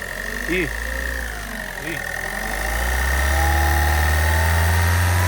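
A motorcycle engine idles steadily with a low rumble, getting louder and rougher in the second half as it is revved slightly; a voice briefly speaks over it.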